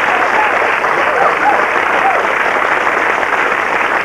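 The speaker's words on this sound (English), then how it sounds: "A round of applause for James and Michael." Studio audience applause on a 1992 UK Blockbusters game show, a steady, dense wash of clapping that stays loud and even throughout with no voices over it.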